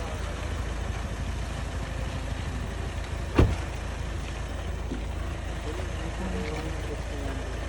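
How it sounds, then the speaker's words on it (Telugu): A 2019 Hyundai Venue car engine with about 115,000 km driven hums at a steady idle, low and even, with one sharp click near the middle. "Just engine noise."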